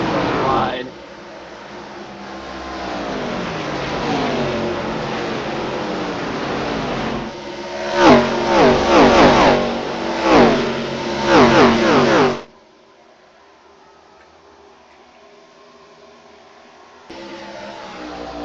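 Race car engines in an ARCA stock car racing video game at the Brickyard drone steadily in a pack, with a louder stretch of revving and shifting pitches before cutting to quiet, while someone talks over it.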